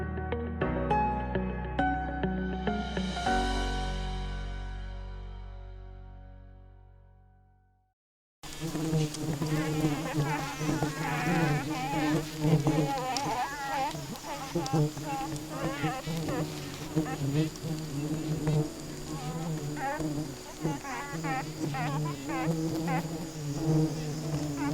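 Kelulut stingless bees produce a dense, continuous close-up buzzing that fills the clip after a short musical tone at the start, steady and loud with overlapping drones.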